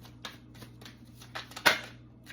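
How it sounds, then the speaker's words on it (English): Tarot cards being shuffled by hand, a quiet series of close, quick riffling flicks with one sharper snap near the end. "Let me shuffle again"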